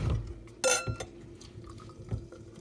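Apex Asmodeus DIPA beer poured from a can into a glass, a brief burst of splashing liquid near the start followed by quieter fizzing and trickling, close and fairly soft with no talk.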